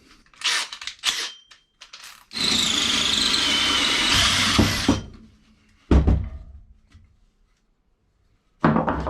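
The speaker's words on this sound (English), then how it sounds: "Now I've got the hole drilled for the shaft to go through there" A power drill bores a hole for a shaft in an engine-installation job: a sustained, loud whine of about two and a half seconds, framed by short clunks and taps before and after, with a final burst at the end.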